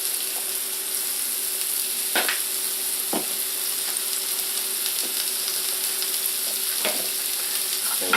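Vegetables sizzling steadily in olive oil in a pan, a constant bright hiss with occasional scraping stirs from a utensil cutting through, close and loud with no talking.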